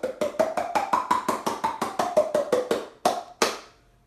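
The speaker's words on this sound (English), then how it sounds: "I'm not using my voice at all. It's all the interaction of my mouth and my hands." Body percussion made only with the mouth and cupped hands, a quick run of about fifteen even, hollow pops with shifting pitch, then two louder, spaced strikes that ring out to silence.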